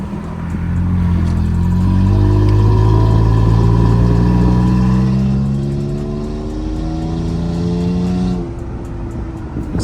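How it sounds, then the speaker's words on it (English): Toyota Tacoma pickup fitted with an aftermarket Amazon exhaust, accelerating along a main road: a loud, close engine drone climbs through the gears with rising pitch sweeps, then eases into a steadier cruise. "See what it sounds like when we pick up speed on this main road."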